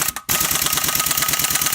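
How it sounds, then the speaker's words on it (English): A 14 mm socket on a ratchet or driver removes cam gear studs from an engine block, giving a fast, steady rattling buzz up close that starts abruptly and runs on without talk. "Next, I'll be taking off the cam gear studs so I can take off the cam gear, and that is a 14 socket."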